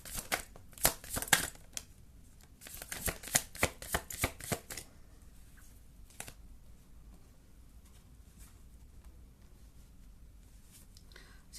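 Tarot cards being shuffled by hand, a rapid run of crisp riffling flicks in the first few seconds, then quieter handling with one more flick and near silence.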